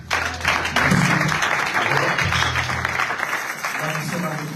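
Church congregation at a youth worship service applauding and cheering together, a dense, steady wash of clapping and voices that swells loud early and holds for several seconds.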